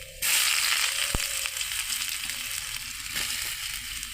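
Onions drop into hot oil already browning garlic for a village-style potato mash. A loud burst of sizzle begins abruptly and settles into a steady close frying hiss, with one sharp clink partway through.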